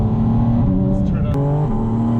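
A Porsche Boxster Spyder RS 718 engine drones loudly from inside the cabin as the PDK gearbox drops down through the gears, the tone stepping during brief shifts, with a voice over the top.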